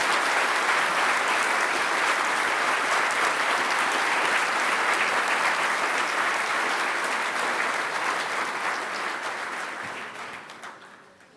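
A large graduation audience applauds standing Applied Biology and Biopharmaceutical Science graduates at GMIT, a dense, loud and sustained roar of clapping that fades away at the end.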